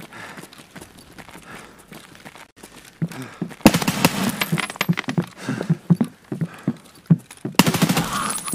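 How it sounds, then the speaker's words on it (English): Escape From Tarkov gunfire: a quiet stretch of faint movement, then sudden loud, rapid automatic bursts close by, pausing briefly before another sharp volley, no talk. "why is he shooting?"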